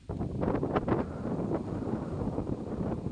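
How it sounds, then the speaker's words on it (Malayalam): Strong wind buffets the microphone in a steady, roaring rush with gusty swells, no voices over it. "വളരെ ശക്തമായ കാറ്റ്"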